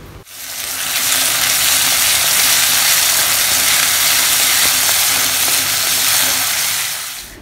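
Tomatoes for egg parotta, a street-food dish, sauté in a hot pan with a loud, dense, steady sizzle that runs throughout, close and unbroken, with faint scraping.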